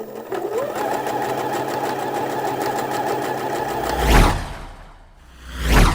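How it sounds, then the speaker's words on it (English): A sewing machine stitches a side seam on a summer shirt, running in a fast, even mechanical whirr up close, then pausing in two short gaps with brief swishes of fabric. "And just do a line of stitching along that side seam there."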